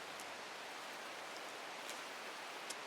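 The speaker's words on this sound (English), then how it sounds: "I like the rain here in this game." Steady rain ambience from the video game Strange Horticulture, a soft, even wash of falling rain with occasional faint droplet ticks, heard alone without voices.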